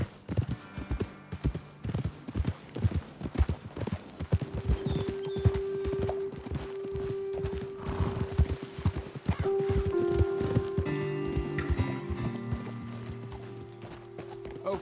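Horses in Red Dead Redemption 2 trot and clip-clop in a dense, uneven hoofbeat rhythm, close and clear, with creaking tack, a neigh, and a sustained background tone entering midway.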